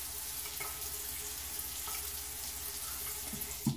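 Tap water runs steadily from a faucet, a continuous quiet hiss used to dampen skin before a charcoal face mask. It goes on alone, with a small knock at the very end.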